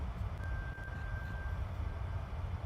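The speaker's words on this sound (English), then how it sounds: "There's some beeping sound in the background" A steady electronic beep tone sounds faintly in the background of a room, holding one pitch for about a second over low rumbling noise, with no one talking.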